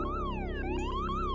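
A wailing ambulance siren sweeps up and down in pitch continuously as it approaches, steady and fairly loud with a constant low rumble underneath, no voices.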